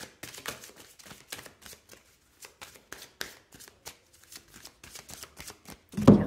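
A deck of Ho'oponopono oracle cards is shuffled by hand in quick, crisp riffling bursts, close and fairly quiet, ending with a louder thump.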